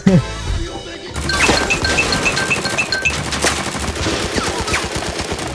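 Bots firing in the shooter game Arena Breakout, rapid bursts of automatic gunfire with sharp cracks and impacts, loud and dense for several seconds after a brief quieter opening.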